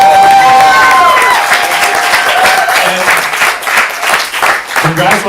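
A comedy-club crowd applauds after a student stand-up set, loud close clapping with some cheering, while voices carry over the top, then the clapping thins and turns more scattered toward the end.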